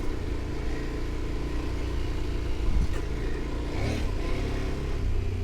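A KTM motorcycle runs off-road along a trail on the Trans Marocco route, its engine drone steady and close beneath rumbling wind and terrain noise, with a couple of brief rises in revs and no voices.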